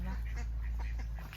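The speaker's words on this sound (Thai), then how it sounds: "เป็ดกับลอยน้ำนี้ แก๊บแก๊บแก๊บแก๊บไปแล้วคน" Ducks floating on water behind a house quack in quick repeated bursts nearby, with a person's voice mixed in over a steady low rumble.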